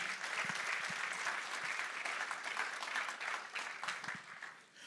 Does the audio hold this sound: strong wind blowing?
no